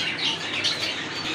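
Pigeons at a bird dealer's loft, including Rajgolla pigeons, give off a steady wash of squawks, chirps and soft cooing with a little wing flapping, close and continuous, with no voices over them.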